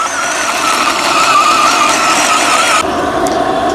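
A cheap, fast RC toy tank drives with its electronic engine sound effect playing, a steady, loud, buzzing whine with squealing overtones that continues unbroken and close, with no voices.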